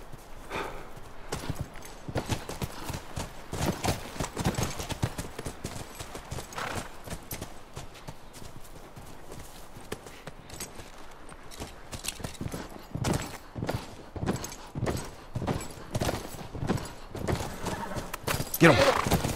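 Horses trot in The Last of Us Remastered on PS4, steady clip-clop hoofbeats continuing close and moderately loud for the whole stretch, with a brief whinny and occasional speech over it.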